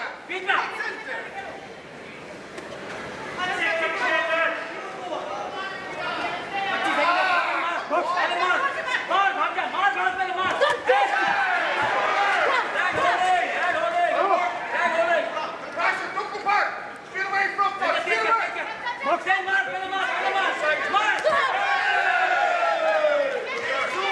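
A Commonwealth Games boxing crowd in Glasgow, largely Irish supporters, cheers and chatters throughout a bout, a dense roomful of voices swelling steadily while a commentator talks over it.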